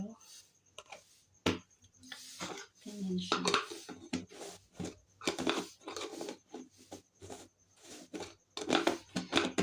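Plastic lid being closed on a large hair mask jar, a series of close, sharp clicks and scraping twists at irregular intervals, with faint speech in the background.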